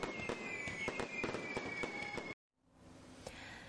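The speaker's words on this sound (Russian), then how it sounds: "А завершающим этапом стал красочный салют." Festive fireworks salute at a holiday celebration in Abkhazia: dense volleys of bangs and crackles, loud and continuous, cut off abruptly midway, then resuming as a fainter rumbling crowd-like wash with a distant pop.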